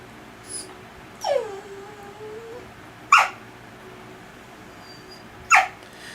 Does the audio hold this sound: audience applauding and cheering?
no